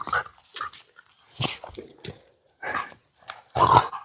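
A wet dog growls and yips in bursts while playing at a creek during a truck camping trip, close and fairly loud, with short pauses between the noisy outbursts.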